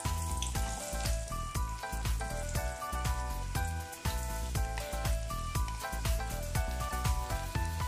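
Finely chopped onions fry in hot oil in a kadhai, a steady crackling sizzle running beneath continuous background music.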